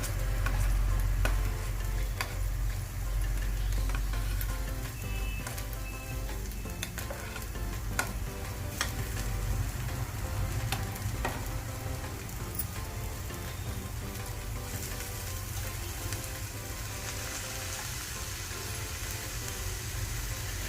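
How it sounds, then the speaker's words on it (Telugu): Boiled potato, carrot and beans fry in a pan for a ragi vegetable cutlet, giving a steady, dense sizzle that hisses evenly throughout with light stirring. "అన్నీ వేసిన తర్వాత కొద్దిసేపు వేపుకోవాలి."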